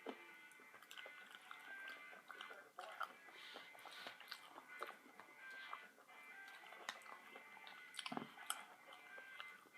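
Soft, close chewing of spicy broccoli from a General Tso's dish, quiet wet crunches and mouth sounds repeating irregularly, with faint low voices in the background.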